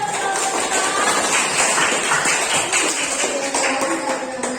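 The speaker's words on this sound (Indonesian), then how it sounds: "Oke, tepuk tangan dong." Classroom audience clapping hands in a steady, dense round of applause that fills the whole moment, with no talk over it.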